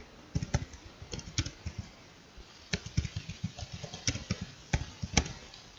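Keys clatter on a computer keyboard in short bursts of quick, close taps with brief pauses between, typing alone in a quiet room with no talk.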